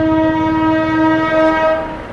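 A diesel toy train on the Darjeeling hill route approaches and sounds a steady, loud horn with a strong harmonic tone that holds for about two seconds before easing off. Engine rumble runs underneath, and no one speaks.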